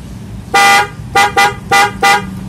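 A loud car horn blares in four honks, one longer blast followed by three shorter ones, close and piercing against a quiet background.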